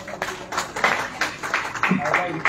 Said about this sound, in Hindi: जोरदार ताली इनके लिए भी